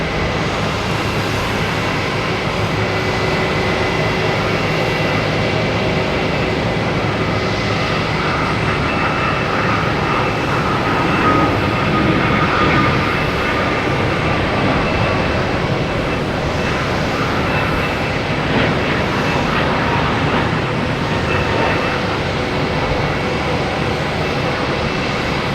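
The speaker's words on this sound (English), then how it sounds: "All right, TAP, Air Portugal." A TAP Air Portugal airliner at Boston Logan Airport sends out a loud, continuous jet engine roar that holds steady and close for the whole stretch, with no talking over it.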